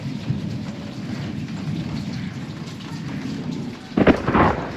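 Steady heavy rain hisses throughout with a low rumble of thunder, then a louder crackling burst near the end.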